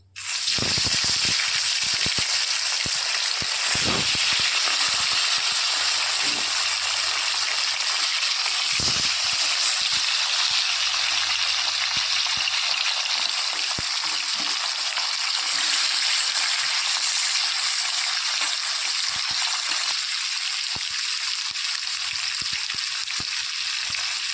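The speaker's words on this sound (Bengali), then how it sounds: "ওই তেলে বাদবাকি মাছগুলো দিয়ে দেবো।" Tilapia fish fry in hot oil in a pan, a loud continuous hiss and crackle that holds steady for over twenty seconds, close and dense with no talk.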